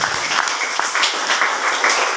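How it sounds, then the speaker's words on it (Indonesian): A church congregation claps together in dense, rhythmic applause, loud and close throughout. "Beri tepuk tangan buat Tuhan Yesus."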